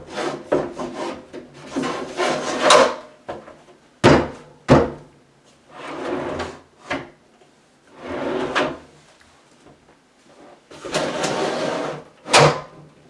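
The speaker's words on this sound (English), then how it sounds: "You'll be able to pull the drawer back out." A wooden closet drawer slides in and out repeatedly on its runners, with rasping scrapes punctuated by a few sharp knocks and thunks.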